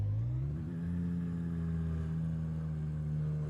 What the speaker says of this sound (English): Exhaust sounds pretty nice.